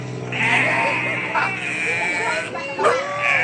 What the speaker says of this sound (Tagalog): Yan, Ana, may tupa dito.